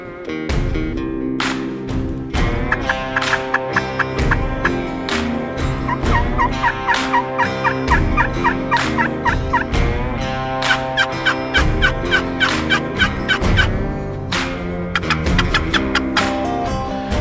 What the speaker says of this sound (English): The old two gobblers are gobbling back over the ridge.